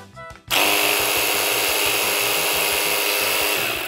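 A HOTO folding high-pressure washer starts after a brief quieter moment and then runs with a loud, steady high-pitched motor whine and pulsing pump chatter, continuous and close to the end.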